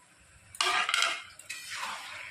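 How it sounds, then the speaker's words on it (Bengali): Chicken being stirred in a pan with chili powder, cumin, salt and turmeric: a couple of short bursts of metal spoon scraping and clattering against the pan, close and fairly loud, with quiet pauses between. "দিয়ে ভালো করে নেড়ে চেড়ে কষিয়ে নেব।"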